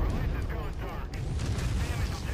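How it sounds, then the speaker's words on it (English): Explosions and heavy weapons fire from a mech battle in the video game MechWarrior 5, a dense continuous rumble of blasts and booms filling the scene at steady loudness. "Oh, lots of explosions."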